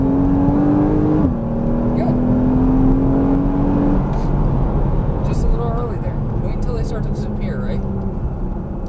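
A Porsche Cayman S engine accelerates on a race track, a loud steady in-car drone rising in pitch with a gear change, while a driving instructor talks over it.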